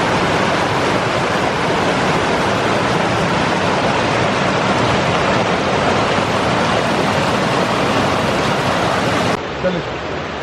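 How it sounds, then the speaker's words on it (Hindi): Dulai waterfall in northern Pakistan roars with a loud, steady rush of falling water that fills the whole stretch, dropping off abruptly near the end. "मैं दुलाई वाटरफॉल पे हूँ, आप मेरे पीछे देख सकते हैं। बहुत अच्छी खूबसूरत वाटरफॉल है।"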